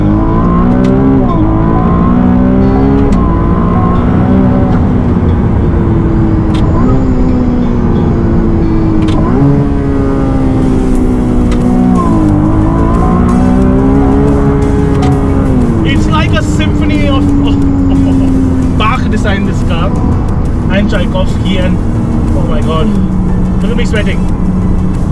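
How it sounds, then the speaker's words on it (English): Ferrari engine revving and dropping pitch through a downshift in hot Dubai conditions, loud and continuous with rising and falling harmonic sweeps, crackles near the end, with someone talking over it. "They've gone back to the days where all Ferraris, needless of what engine they were, sounded insane."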